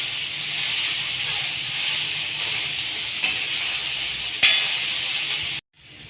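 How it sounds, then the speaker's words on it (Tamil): Mixed vegetables sauté in a pan with a steady close sizzle, broken by a couple of sharp scrapes from stirring, before the sound cuts off abruptly near the end. "இப்போது காயெல்லாம் ஓரளவுக்கு நல்லா வதங்கிடுச்சு"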